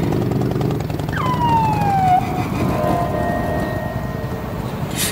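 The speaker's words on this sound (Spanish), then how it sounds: "una patrulla." A police patrol car siren sounds nearby in a single rising-then-falling wail that quickly fades, over a low engine and street rumble.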